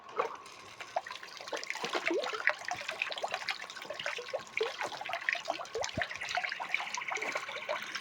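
A small pond water pump fountain runs in an outdoor pond, its flow splashing and trickling in a continuous, busy patter of droplets at moderate closeness, with no talk.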